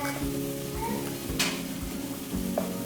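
Garlic sizzles in a pan for stir-fried rice, a low steady frying hiss with a brief clatter of a utensil against the pan, close by.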